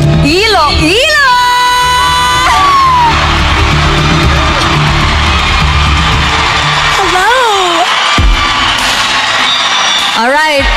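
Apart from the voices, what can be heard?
pageant audience cheering and whooping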